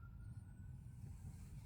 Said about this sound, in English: I don't think they're police sirens. I think that's an ambulance.